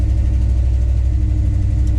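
A Dodge D150 truck with a 5.9 Magnum V8 and Holley EFI idles steadily and fairly smoothly, a loud, close, continuous low rumble with no talk over it.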